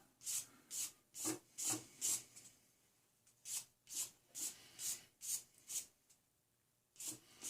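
Metal tweezers are sanded by hand with 400 grit sandpaper in a series of short, quiet rubbing strokes, each a soft raspy swish, falling into an even rhythm with a couple of brief pauses, close up.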